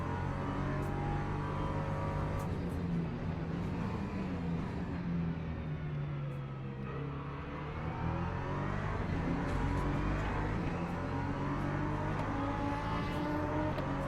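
In-car sound from an ELMS race at Algarve as LMP2 prototypes close in and pass: a loud, continuous engine roar with shifting pitch as revs rise and fall, other cars sweeping by.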